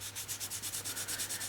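Sandpaper of 120 to 200 grit scuffs a surface in quick, even back-and-forth strokes, about a dozen rhythmic rasps in a second and a half, close and steady with nothing else heard.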